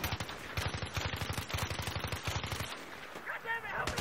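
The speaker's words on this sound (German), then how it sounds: "mit dem letzten Schuss habe ich erwischt mit der letzten Kugel" Rapid automatic gunfire rattles in steady bursts in the video game Battlefield 3, close and dense, then breaks off into scattered game sounds and effects.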